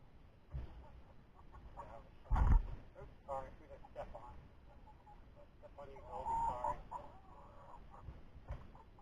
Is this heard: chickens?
yes